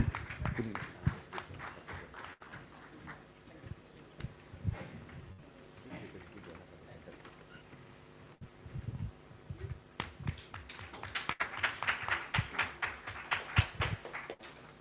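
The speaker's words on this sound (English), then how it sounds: "Let's welcome him with a huge round of applause" Applause from an event audience, scattered claps and taps rising into denser clapping toward the end, with some voices mixed in underneath.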